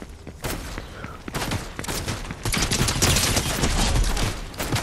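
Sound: gunfire in a video game

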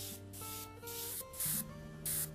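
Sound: airbrush spraying acrylic paint

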